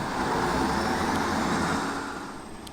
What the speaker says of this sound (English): streetcars make sounds like buses in here